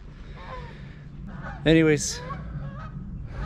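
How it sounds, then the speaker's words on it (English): A goose honks loudly several times in a quick burst, close by, over steady outdoor background noise, with a voice speaking briefly nearby. "I was looking at the geese."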